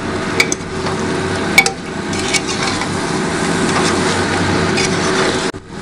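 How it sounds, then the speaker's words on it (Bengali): Spiced meat curry being stirred in a pan, a low continuous cooking hiss with a few sharp utensil scrapes and taps against the pan early on, fairly loud and close. "এবারে একটু সামান্য নাড়িয়ে দেওয়া হবে।"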